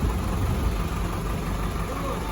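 A truck engine idles in a low, steady rumble, close and continuous, with people talking nearby.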